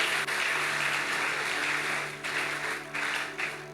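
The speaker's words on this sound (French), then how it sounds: "Acclamons les dames." A church congregation applauds the ladies, a steady wash of many hands clapping at moderate distance that holds for a few seconds, then thins into uneven bursts.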